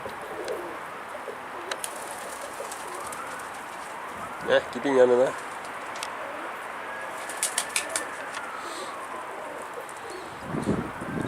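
Mardin pigeons coo in a short, close burst midway, with a few soft wing flutters and light rustling; a voice and laughter carry over a steady outdoor background.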